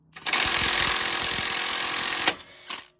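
An impact wrench tightening a bolt on Jeep JL/JT steering, one loud rattling burst of hammering lasting about two seconds, close up, ending with a short extra buzz.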